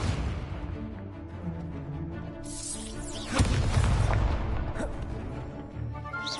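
A fiery Incendio spell blast from the Hogwarts Legacy video game, bursting out loudly in a sudden whooshing roar with a booming low rumble that lingers for a few seconds over game sounds.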